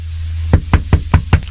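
Knocking on a door during a radio show broadcast: six sharp, evenly spaced raps, loud and close, following a brief low hum.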